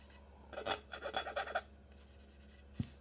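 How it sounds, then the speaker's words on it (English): Hand sanding of a molded car hood: a few close, rasping scrubbing strokes in quick bursts, then a pause and a fainter final pass ending in a soft knock, quiet overall with no speech. "I haven't sanded this side of the hood, the side over here. You can hear that, and this side."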